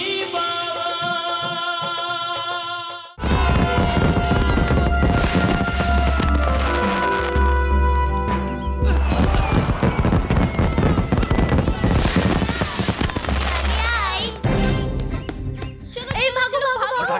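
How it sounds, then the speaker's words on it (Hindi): Firecrackers burst in rapid crackling volleys at a village celebration, the dense pops running for several seconds in loud bursts beneath swelling dramatic music and voices. "पटाखे इस तरह से जलाते हैं?"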